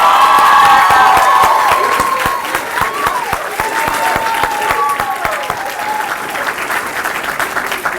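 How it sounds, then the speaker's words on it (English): Audience at a school Founders Night event applauds and cheers, loud dense clapping with whoops and shouts that settles into steady clapping over several seconds, with a held tone early on. "we've given our performers and our guests a round of applause"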